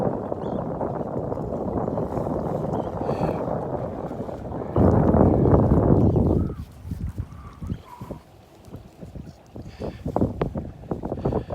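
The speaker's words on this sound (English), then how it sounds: "It is windy" Strong wind blowing across a beach in North Naples, Florida, roaring hard into the microphone and peaking in a loud gust before easing into patchier buffeting with light rustles and footstep-like crunches.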